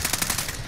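Rapid automatic gunfire from the video game Call of Duty: Modern Warfare, a dense burst of evenly spaced shots lasting under a second, loud and close with no talk over it.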